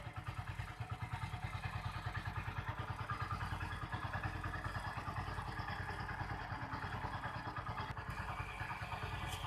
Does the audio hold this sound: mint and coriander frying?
no